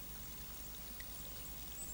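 Water pours and trickles from a pressed special forces water container at a base camp, a steady soft splashing stream lasting throughout, fairly faint and close, with no talk.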